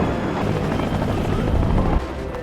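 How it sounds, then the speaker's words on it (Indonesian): Loud, close rotor noise with a dense rumbling thrum fills the clip, steady throughout before easing slightly near the end. "Setelah semua tim ekspedisi naik ke helikopter, mereka berangkat."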